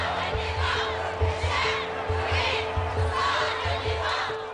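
Crowd of thousands of protesters gathered at Pearl Roundabout in Bahrain, a dense far-off roar of many voices with rising swells of shouting, steady throughout.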